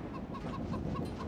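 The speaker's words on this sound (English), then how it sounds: "Chickens! Assemble!" Chickens in the video game Pirate101 cluck in a quick run of short, rhythmic clucks over a dense, busy game soundscape, moderately loud and close.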